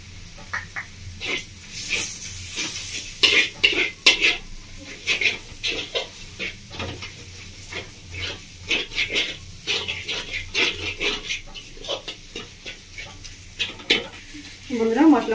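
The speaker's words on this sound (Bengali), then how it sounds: "ভালো করে মশলাটা কষিয়ে নেব" Spiced masala with turmeric and salt sautéed in a pan for a Bengali parwal paneer dish, with repeated scraping stirs and clinks of a spoon over a low sizzle, no talk.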